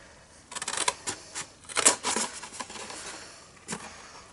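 Scissors snip through patterned designer series paper up to a score line while making a bag, giving a run of soft crisp cuts and rustles close by, then a pause and one final snip.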